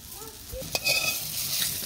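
Eggplant slices frying in a pan: a soft steady sizzle close by, one sharp clack of a utensil partway through, with no speech.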